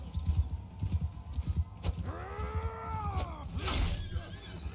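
Horse hooves in a Mount & Blade II: Bannerlord battle: steady low thudding clip-clop throughout, with a whinny-like rising and falling call in the middle over a busy background.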